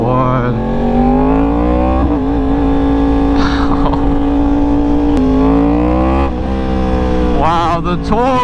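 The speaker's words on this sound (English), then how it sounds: "we are on a loud R1" A loud Yamaha R1 motorcycle cruises a highway, its engine droning steadily with rising and falling pitch through gear changes and throttle blips, wind rumble underneath, close and continuous with a rider talking over it.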